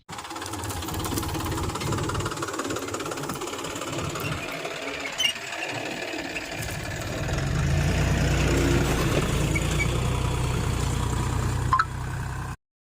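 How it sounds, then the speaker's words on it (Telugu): A John Deere 45 HP tractor with a black engine runs steadily, a continuous rumbling, knocking drone that grows heavier and louder partway through before cutting off abruptly. "మన బండి అయితే black engine John Deere 45 HP మన బండి ఇంజన్ అయితే ఎట్లుందో, ఇంజన్ సౌండ్ ఎట్లుందో"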